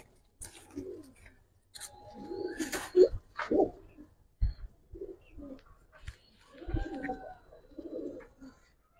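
Giribaz and coloured pigeons coo in repeated soft, throaty bursts close by, several birds overlapping with brief pauses between calls.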